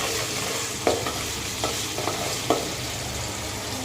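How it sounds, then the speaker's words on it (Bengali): Onions and ginger-garlic paste frying in hot oil make a dense, continuous sizzle, with a few brief clacks of a spatula stirring the pan. "গরম তেলে পেঁয়াজ দিয়ে দিয়েছি"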